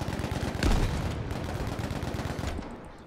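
Rapid gunfire rattles in a dense, continuous burst in Battlefield V, loud and close, with a sharper heavy blast near the start before the shots trail off.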